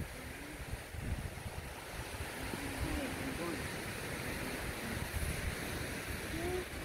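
Noisy water waves heard outdoors on a wavy day, a constant faint wash of surf mixed with wind noise, with people talking quietly over it.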